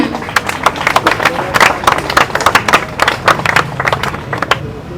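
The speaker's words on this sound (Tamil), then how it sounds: "கரகோஷம்" A small crowd at a Tamil memorial day gathering for Abdul Kalam claps steadily in sharp, uneven bursts, loud and close, with a faint voice underneath.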